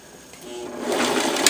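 A sewing machine stitching along a seam, its rapid mechanical whir building in speed and loudness over a brief moment, close and steady.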